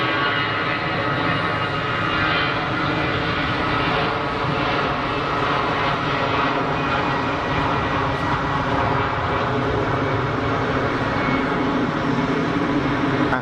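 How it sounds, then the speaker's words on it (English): Airliner with CFM engines at Geneva Airport spooling to takeoff throttle on a calm day: a loud, continuous, growly jet roar with a broad rumbling body, holding steady throughout with no voices. "Sounding pretty growly for CFMs. Good armful of throttle."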